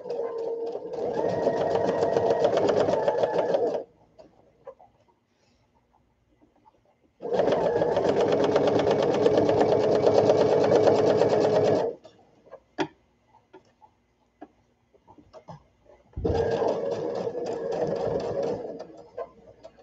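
A sewing machine runs in three steady bursts, each a few seconds long, stitching and backstitching the seams and ties of a baby sunsuit. Short quiet gaps separate the bursts, with faint clicks between them.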